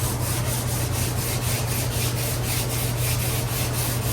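Steady, close scraping of 80 grit sandpaper worked across a fiberglass 1932 coupe body during paint prep, loud and continuous with a faint rhythmic back-and-forth pulse and a low hum underneath, no talking.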